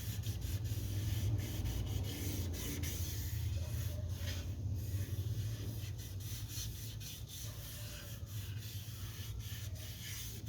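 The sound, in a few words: sanding a guitar neck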